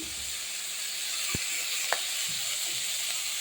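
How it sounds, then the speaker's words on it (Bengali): Sour okra and shrimp with spices hiss steadily in a pan, with a couple of light clicks from stirring, close and even, no talking. "টক ভেন্ডি দিয়ে নাড়াচাড়া দেবো"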